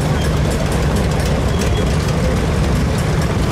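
A 1937 tractor with an early four-cylinder engine runs at a steam and gas engine show in Baraboo, Wisconsin, giving a loud, steady low rumble with broadband noise throughout and no talk.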